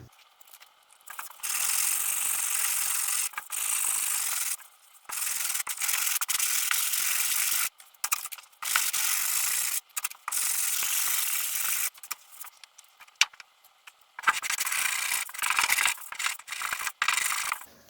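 Sandpaper scrubbing the bodywork of a Ford Escort MK1 during restoration, in steady hissing bursts of rubbing strokes separated by short pauses, close and fairly loud, with no talking.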